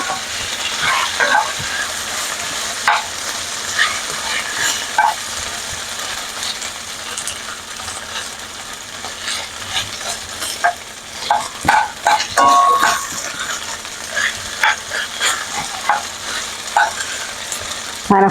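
Meat sears in a hot pan over a medium gas flame for carne guisada, a steady crackling sizzle with scattered pops and occasional scrapes as pieces are turned, close and continuous with no talking.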